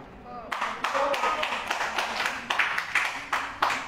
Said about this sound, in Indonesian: Kayaknya nggak ada yang mau Ardul aja yang tepuk tangan.